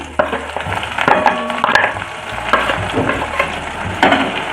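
Loud, close sizzling of onions and garlic frying in oil, with clattering stirring strokes and scraping throughout.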